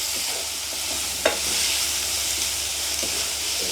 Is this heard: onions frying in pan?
yes